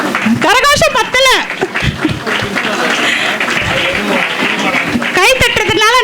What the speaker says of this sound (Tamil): மாணவர்களை ஊக்குவிப்பதற்காக பலத்த கரகோஷங்களை எழுப்புமாறு அன்போடு அனைவரையும் வேண்டி கேட்டுக்கொள்கின்றேன்.